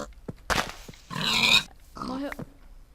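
A pig grunting in a video game, three short gruff bursts spaced across a few seconds, near and fairly loud with no talking over them.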